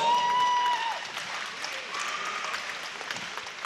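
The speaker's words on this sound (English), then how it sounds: "Give these two warriors a big round of applause." A crowd at a main-event fight night applauds the two fighters, a steady, dense wash of clapping held at an even level throughout, with a brief high whistle near the start.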